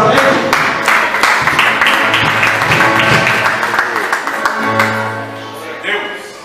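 A church congregation claps along during evening worship praise, steady massed hand claps blending with singing and music, loud and close throughout.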